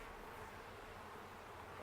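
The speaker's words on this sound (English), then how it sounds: "Lots of bees." Honey bees buzz at an open hive during an inspection, a steady, dense drone from many insects that stays even throughout, faint overall and without any talk.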